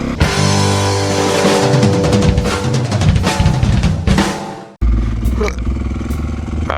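Dirt bike engine revving hard and close on a motocross track, a loud raspy roar that cuts out abruptly, then picks back up more unevenly.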